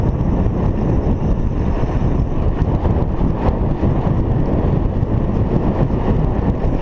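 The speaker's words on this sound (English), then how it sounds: "The wind, I guess." Strong wind buffets the microphone during a road cycling ride on a road near Lusaka, Zambia, a loud, constant roaring rush with no talking.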